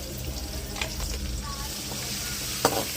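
Soaked moong dal and amaranth leaves fry in a pan with a continuous, close sizzle, and one short clatter near the end.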